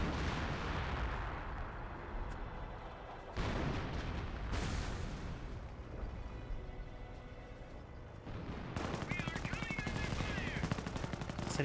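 Machine-gun bursts, rifle fire and artillery booms from the WWII strategy game Company of Heroes rattle continuously in a dense, loud barrage, with heavier explosive thumps breaking through midway and near the end.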